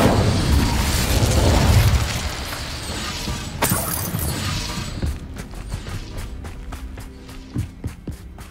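Incendio fire spell blast in Hogwarts Legacy, a loud rumbling whoosh at the start that fades, followed by a sharp crack and then scattered lighter impacts and steps in the game's combat.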